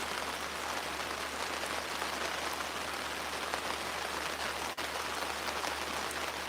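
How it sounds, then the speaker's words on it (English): Steady rain falls outdoors at a fishing spot, a dense, even hiss of drops that carries on without a break from start to finish, with no voices. "I think the rain's picking back up."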